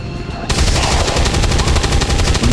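Grenadier weapon fire in XCOM 2, a dense, loud burst of rapid gunshots that starts abruptly and rattles on steadily without a break.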